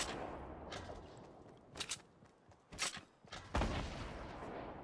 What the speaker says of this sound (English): constantly applying pressure with the grenade launcher and circling around